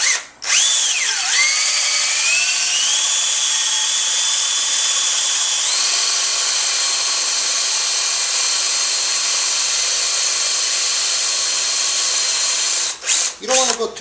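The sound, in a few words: drilling into a turkey hunting call striker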